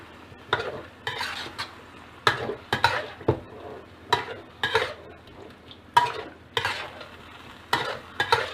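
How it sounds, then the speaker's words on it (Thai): Pork with oyster sauce and dark soy sauce is stir-fried in a pan, giving a soft sizzle under irregular bursts of scraping and clattering from the spatula against the metal, close and unaccompanied by voices. "ซอสหอยนางรมนะคะ และซีอิ๊วดำค่ะ ผัดให้เข้ากันเลยค่ะ"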